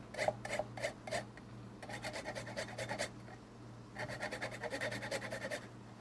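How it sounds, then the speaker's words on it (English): A microplane grates an ingredient for pumpkin soup in quick rhythmic strokes, grouped into several short runs of rasping scrapes, close up and with no speech. "I like to grate it. Get my microplane."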